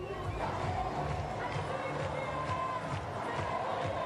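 A crowd gathered along the Paris 2024 Olympic torch relay route makes a dense, steady murmur of chatter and scattered calls, fairly close and continuous throughout.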